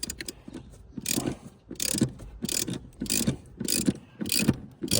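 A ratchet wrench backs out a long seat-mounting screw on a 2019–2021 Ford Everest second-row seat, a close series of rhythmic clicking bursts, about six strokes in quick succession, with short pauses between them.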